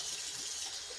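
Water runs from a sink tap in a steady hissing stream, close and fairly quiet, while makeup brushes are being washed.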